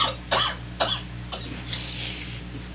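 Several sharp coughs in a row, close and loud, followed by a longer raspy exhale.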